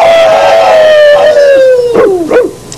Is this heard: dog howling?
yes